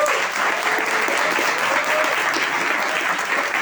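A conference audience applauds two speakers, steady dense clapping that fills the room evenly from start to finish, no voices over it.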